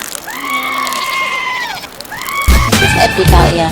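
A ram goat bleats in two drawn-out, wavering calls, close and fairly loud, followed by a burst of harsher, noisier sound at the end.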